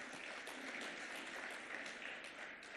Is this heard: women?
yes